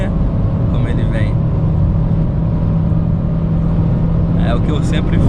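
A Renault Duster Zen 1.6 flex manual from 2022 revs high in fourth gear on the road, a steady loud engine drone with road rumble and someone talking over it.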